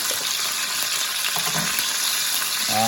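Chicken pieces for coq au vin fry in a pan with a steady, loud, hissing crackle that fills the whole stretch, a faint clunk of handling near the end.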